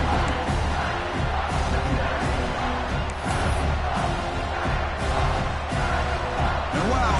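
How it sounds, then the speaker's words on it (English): A large stadium crowd roars continuously, a dense wash of cheering and shouting that never lets up. "Listen to this crowd noise. This stadium is vibrating."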